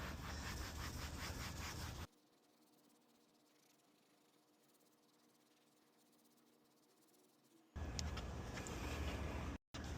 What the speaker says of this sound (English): Now just go to wiping this.